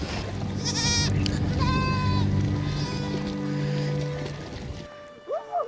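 A flock of Changthang nomads' sheep, being crossed over a cold Himalayan river in Ladakh, bleats repeatedly at close range, overlapping calls layered over rushing water, fading toward the end with a few scattered cries.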